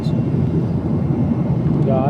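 Airplane cabin during a flight to Delhi: a steady, loud broadband engine and airflow roar that holds constant throughout with no clear break.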